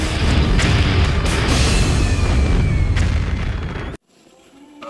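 Acetylene gas canisters exploding at an industrial gas plant near downtown Dallas, a loud continuous roar of blasts and booming bursts that cuts off abruptly, leaving faint distant rumble.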